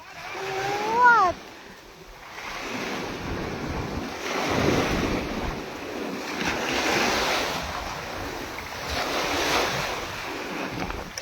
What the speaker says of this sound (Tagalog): See? The wave in this part is big.